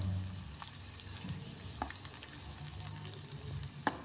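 Dried fish (tuyo) frying in oil with a steady low crackle, a few soft stirring scrapes and one sharp clink near the end; no voices.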